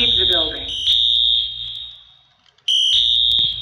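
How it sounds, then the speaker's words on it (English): Fire alarm in a Roblox video game building: a loud, steady electronic alarm tone that cuts out briefly near the end and then resumes, with a voice announcement heard over it at the start. "The fire alarm has been activated in the building."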